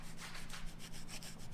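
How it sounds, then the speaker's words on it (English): Edges of a handmade leather wallet being sanded with sandpaper using light pressure, a quiet, steady rhythmic rubbing with repeated back-and-forth strokes and no talk. "This is one method of sanding it."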